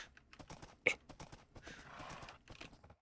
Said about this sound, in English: A horse can go through there, it just gets stuck on there sometimes.